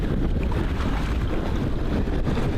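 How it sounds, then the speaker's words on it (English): Strong wind at sea buffets the microphone with a low, steady roar, along with faint water sounds and no talking. "We've got a bit of wind that's come back from the south."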